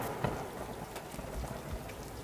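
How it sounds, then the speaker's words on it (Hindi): Monsoon rain falls steadily in a dense, even hiss of drops, with a few low rumbles suggesting distant thunder underneath. "कुछ महीने ऐसे ही बीतने के बाद बारिश का मौसम शुरू हो गया।"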